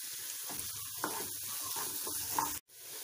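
Onions frying in a pan for an aloo palya filling: steady, moderately quiet sizzle with soft crackles and stirring scrapes, cut off briefly near the end.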